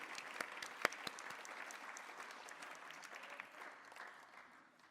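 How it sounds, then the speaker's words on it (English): An audience applauds Mayor Crombie at an evening honorees event on progressive leadership, a steady moderate wash of many hands clapping with a few sharper near claps, fading slightly toward the end. "I think she deserves a round of applause."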